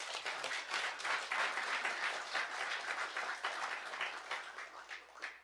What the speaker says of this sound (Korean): 한번 박수 보내주시죠.